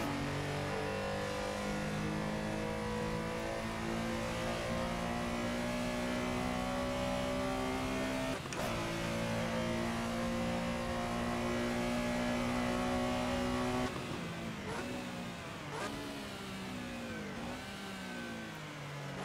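A race car engine in Assetto Corsa with a GT Legends mod revs hard and steadily on a track, a sustained droning howl that drops and blips through gear changes near the end.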